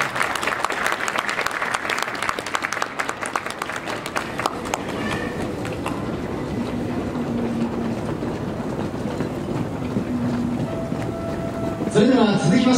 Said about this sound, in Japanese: 改めて大きな拍手をお願いいたします